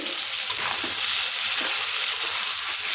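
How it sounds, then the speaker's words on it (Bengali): Chopped tomatoes fry with salt in a pan for a paneer curry, giving a steady, close, even sizzle and hiss with faint stirring, no voices. "টমেটো দিয়ে আরও কিছুক্ষণ ভেজে নেব"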